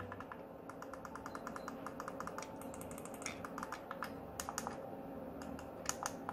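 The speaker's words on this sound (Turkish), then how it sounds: "Tuşların sesleri de bu şekilde." The buttons of a Rampage SMX-R4 macro gaming mouse are pressed again and again, giving crisp close-up clicks, first in a quick steady run and later in sparser, sharper taps. No one speaks.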